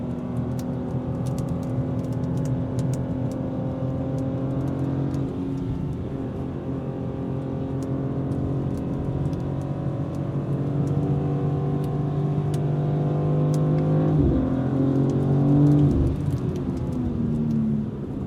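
A 2026 BMW M2 CS with its ZF eight-speed gearbox accelerates through gears on a wet road, the engine rising and falling in pitch with quick shifts, heard from inside the cabin.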